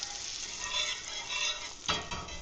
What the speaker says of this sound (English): So melt the butter.